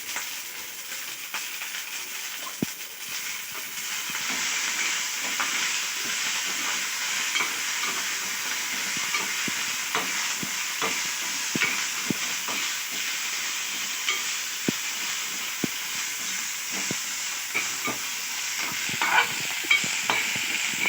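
Coriander, mint and curry leaves sizzle and fry in a hot pan for a dense, steady crackle, broken by frequent scraping clicks of a spoon stirring, with no voices over it.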